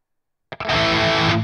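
A heavily distorted electric guitar tone from a Friedman amp profile in the ToneX app, played on an iPad, cuts in abruptly after silence as a short stab followed by a loud, sustained chord.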